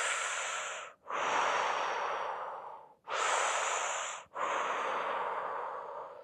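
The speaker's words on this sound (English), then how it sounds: "So let's press in and twist it up and on the left side, and let's breathe." Slow, deep breaths drawn in and released during a fascial stretching class twist, four long airy strokes with brief pauses between, close and clear with no talking.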